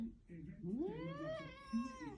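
A cat meows in a long, rising and falling wail with a drawn-out complaining tone, close and fairly loud, while someone speaks Thai around it.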